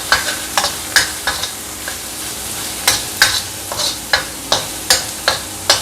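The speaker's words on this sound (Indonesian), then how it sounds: "Ini ditumis sampai harum." Vegetables sizzle and fry in hot oil in a pan while a utensil stirs them, scraping and clacking in quick, irregular strokes over a continuous crackle. The cooking is close and fairly loud, with no talking.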